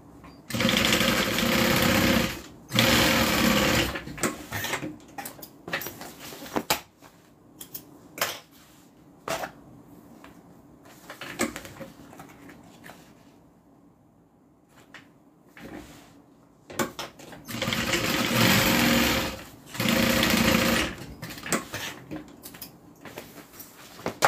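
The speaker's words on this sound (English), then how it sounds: "Okay, we're gonna sew our side pieces on." A sewing machine stitches the side pieces of a vinyl-accented bag, running in two long loud bursts with shorter starts and stops and quieter handling noise between them.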